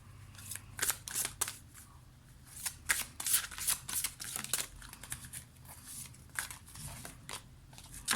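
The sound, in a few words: shuffling oracle cards for a card reading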